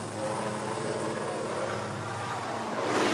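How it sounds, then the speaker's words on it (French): A helicopter carries a royal couple away from near a port. Its rotor and engine make a continuous, loud, rumbling roar that swells slightly at the end. "un hélicoptère emmène les souverains qui ont pris de retard sur l'horaire"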